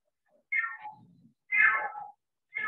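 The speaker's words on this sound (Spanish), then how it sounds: "Es un gatito cargoso." A small stray kitten meows three times in a row, close and clear, each cry rising and then trailing off, with near-silence between the calls.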